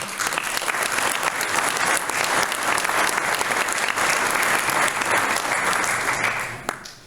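A crowd at a New Year's reception in Chissay, France, breaks into loud, sustained applause, a thick, even wash of clapping from many hands that holds steady for several seconds before cutting off abruptly.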